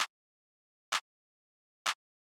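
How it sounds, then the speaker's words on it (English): Three crisp, clean house-style clap samples hit alone at an even rhythm about a second apart, each a short bright burst with a quick decay into silence. "So the next thing we have here is the clap, which sounds like this."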